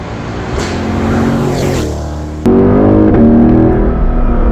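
A gasoline car engine runs close by with a steady throaty drone, then surges abruptly louder halfway through as it revs and holds a stronger, fuller note.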